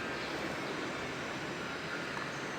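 A high-speed centrifuge spinning wet sugar dry inside the Jatibarang sugar factory in Brebes gives a steady, dense mechanical roar with a constant broadband hum, loud and unbroken throughout.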